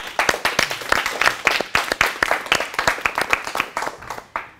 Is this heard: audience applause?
yes